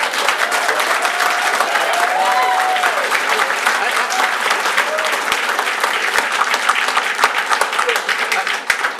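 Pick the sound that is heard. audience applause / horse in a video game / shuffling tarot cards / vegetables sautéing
audience applause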